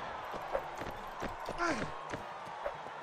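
A training horse's hooves clop at an uneven trotting rhythm in Mount & Blade: Warband, with several soft, mid-distance hoof strikes over a low game background and a brief sliding tonal sound partway through.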